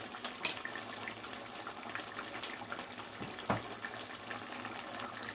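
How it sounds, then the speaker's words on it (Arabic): Hot water or broth being poured into a vegetable tagine for baking, a faint, steady liquid trickle with a couple of light clinks, heard alone. "بعد كده بقى نزودها شوربه يا ميه سخنه ومكعب مرقه دجاج"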